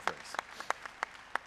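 A sparse round of applause at a business conference on funding African businesses, made up of a handful of distinct, evenly spaced claps, faint and a little distant.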